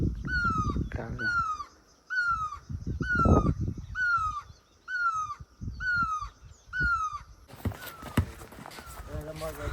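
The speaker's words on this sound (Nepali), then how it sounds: "त्यहाँ रहेछ चरा" A black crow caws repeatedly, about eight harsh calls in an even rhythm at close range, with people talking and moving around underneath.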